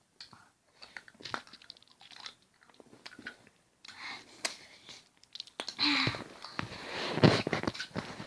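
Lemon-flavored hard candy bitten and chewed close up, with soft crunches and mouth sounds building to louder crunching near the end, faint voices now and then.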